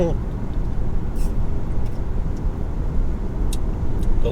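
A car driving on Interstate 81 near Harrisburg gives a steady, loud low road rumble and tire roar from inside, with faint passing hiss of traffic and no talking.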